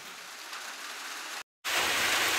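Steady broadband rain hiss, moderately loud and close, filling the scene with an even wash of falling rain; it cuts out briefly then resumes slightly brighter and louder, with no voices.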